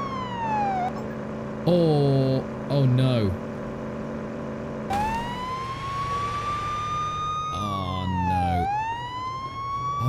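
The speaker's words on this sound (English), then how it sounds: "am I using my sirens?" A police car siren in the video game Police Simulator Patrol Officers wails with long rising and falling sweeps, loud and close, broken by brief horn-like blasts, with someone talking over it.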